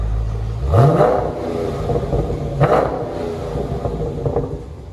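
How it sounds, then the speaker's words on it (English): Two sharp revs of a Dodge Challenger SRT 6.4L HEMI V8 in sport mode with exhaust flaps open, rising and falling, separated by a throaty idle rumble, loud and close. "put it in sport mode and re-rev it again, so we can hear it with the flaps open"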